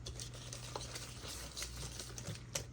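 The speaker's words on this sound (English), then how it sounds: "I'm going to take our little whisk, and we're going to mix all this up together" Small whisk stirring brown sugar and seasonings for meatloaf in a bowl, a faint, quick pattering and scraping with irregular clicks against the bowl, quiet and close.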